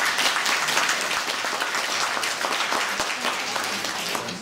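Warm audience applause at a pilgrimage event held by a Lwów heritage society at Jasna Góra, loud, steady and continuous clapping from a large crowd throughout.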